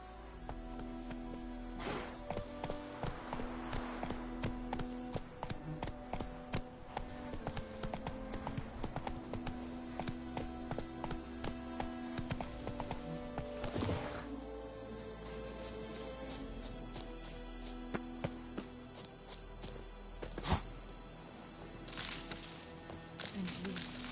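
Horse hooves pound in a fast, steady galloping rhythm in The Witcher 3, close and clear over quiet game music, with a brief voice partway through.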